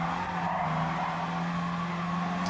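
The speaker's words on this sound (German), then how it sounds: "Weil ich hier geschlittert bin." Car tires skid and squeal through a corner in GT Sport, a sustained screech over a steady engine drone, continuous and fairly loud with no talk.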